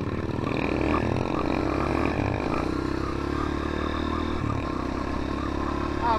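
Honda CRF230 dirt bike with a ProTork mini bike crossing a creek, its engine droning steadily and loudly up close with clattering and splashing noise throughout.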